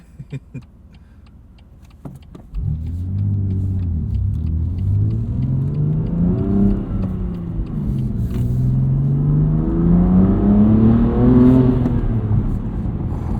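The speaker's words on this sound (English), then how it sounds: "This exhaust." A 2021 BMW M2 Competition with a six-speed manual growls through its exhaust while driving, a low rumble that surges loud after a quiet start and climbs through rising revs in repeated pulls, close and steady.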